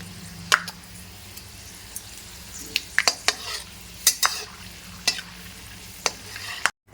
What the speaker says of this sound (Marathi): ते शेंगदाणे मस्तपैकी परतून घेणार आहेत किंवा तळून घेणार आहे